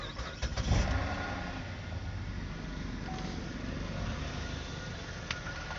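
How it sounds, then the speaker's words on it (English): A car engine cranks and starts, with a brief louder burst near the beginning settling into a steady running rumble, faint and slightly muffled, with a light clicking tick audible while it runs. "So I'm going to start up the car."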